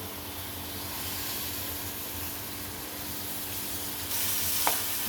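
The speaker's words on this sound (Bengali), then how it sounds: "কাঁচামরিচ পেঁয়াজকে লাল লাল করে ভেজে" Onion and green chili fry in hot oil in a wok with a steady, close, hissing sizzle that holds evenly throughout, with a brief sharp clink near the end.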